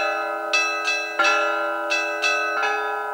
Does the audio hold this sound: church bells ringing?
yes